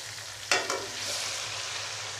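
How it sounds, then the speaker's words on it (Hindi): Chicken pieces frying in a pan with garlic while being stirred, a steady close sizzle broken by a few sharp bursts as the meat is moved, with no talk. "चिकन को भी फ्राई कर लेंगे, इतना कि इसका कलर चेंज हो जाए"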